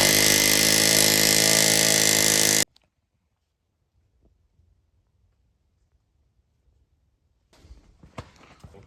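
An impact wrench roars loudly on an over-tightened wheel nut of a Subaru STI during a wheel change, cutting off abruptly into near silence before faint shuffling and knocks.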